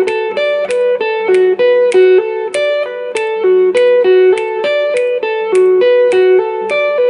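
Electric guitar plays a repeating riff in seven, each cycle marked by sharp plucked attacks in a steady, bright, close pattern with no voices.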